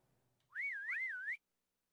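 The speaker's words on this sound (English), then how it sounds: "I don't know whether you guys can hear my whistling or not" A person whistles a short, clear, wavering tune alone for just under a second, fairly close and with no talk over it.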